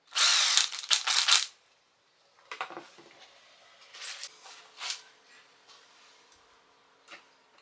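A power drill whirs loudly in short bursts, then quieter intermittent drilling and tool handling follow.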